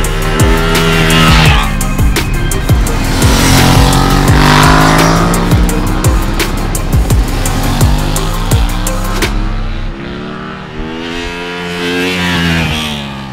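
A Honda Hornet CB750 with a 755cc parallel-twin engine rides past loudly. The engine rises and falls through gear changes, with sharp rhythmic pulses, then fades to a quieter idle near the end.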